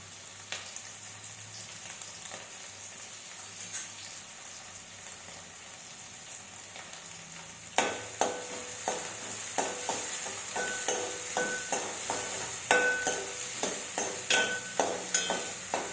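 Two small chopped onions frying in a pan while being stirred, a steady sizzle with a run of rhythmic scraping stir strokes that grow louder and more regular partway through, no voices.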